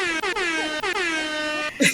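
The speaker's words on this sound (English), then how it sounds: "some air horns on that." A loud air horn blares in a series of brassy, wavering blasts, ending in a short burst of noise.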